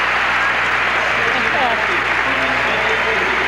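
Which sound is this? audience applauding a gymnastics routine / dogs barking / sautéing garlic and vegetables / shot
audience applauding a gymnastics routine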